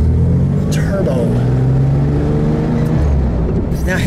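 A 1964 Corvair Turbo drives along with a loud, close engine drone and rumble that shifts in pitch as it accelerates, heard from inside the car with people talking over it.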